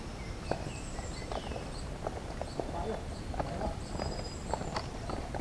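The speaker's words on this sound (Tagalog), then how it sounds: "Oh, Ay, kabayo, kabayo." Horse hooves clip-clop on a rocky mountain trail during a trek on Mount Banahaw, a steady run of close, uneven knocks with faint voices and insect chirps behind.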